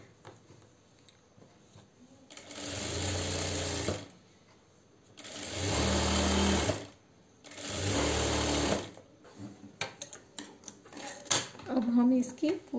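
A sewing machine stitches along the edge of salwar fabric in three loud bursts of whirring, each lasting a couple of seconds with quiet gaps between, and brief talk follows.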